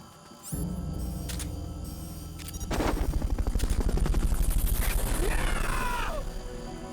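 A helicopter in the video game Metal Gear Solid Peace Walker, a loud, steady rotor chop that swells in after a short quiet start and holds with rhythmic thumping, mixed with game effects.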